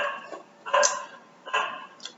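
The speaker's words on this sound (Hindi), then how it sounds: "मेरे पड़ोस में कुत्ता भौंक रहा है" A neighbourhood dog barks in two or three short, sharp bursts at a moderate distance, spaced under a second apart, with no speech over it.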